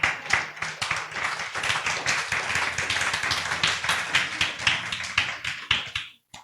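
A church congregation applauds, a lively, uneven patter of many hands clapping up close that keeps going for several seconds before cutting off abruptly.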